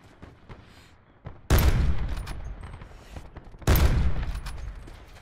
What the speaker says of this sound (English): Oh, he sniped me. He fucking got me.